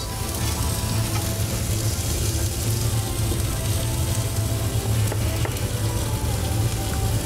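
Iberian pork tenderloin sizzles on a hot griddle, a loud, steady crackle and hiss that runs unbroken throughout with an occasional pop.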